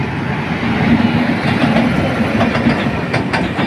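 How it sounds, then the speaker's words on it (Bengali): An electric train on the NF Railway crosses from single to double track with a loud, steady rumble and clattering wheels close by, and nobody speaks. "এয়া ইলেক্ট্রিক ট্রেন, সিঙ্গেল ট্র্যাকৰ পৰা ডাবল ট্র্যাকত সোমাইছে"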